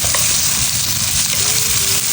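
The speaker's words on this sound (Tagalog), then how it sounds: "Lalagyan lang tayo ng mantika, ang ating sibuyas" Sliced onion goes into hot cooking oil and fries with a loud, steady, close hiss and crackle, with no voices over it.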